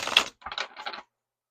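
Brief crisp riffling bursts, two short rapid flutters of tarot cards shuffled close by, then silence.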